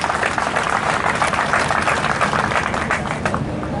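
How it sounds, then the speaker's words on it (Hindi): A large seated audience at a station redevelopment groundbreaking ceremony in Nagda applauds to welcome the Governor, producing a loud, steady wash of many hands clapping that continues evenly, with no voices over it. "ताली बजाकर हम सब लोग स्वागत करें।"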